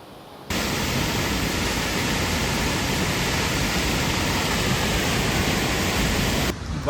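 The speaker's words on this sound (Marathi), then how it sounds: "हे पाणी ना धरणातून येत आहे. फोर्स बघा पाण्याचा फक्त" A strong, forceful flow of water released from a dam into a canal in the Sahyadri hills near Kurli village, Konkan: a loud, dense, unbroken roar that starts suddenly and holds steady, close by.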